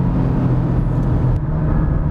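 A 2018 Porsche 911 on a race track, its engine droning loud and steady under load with a strong low rumble and a constant drive-by roar, no voices over it.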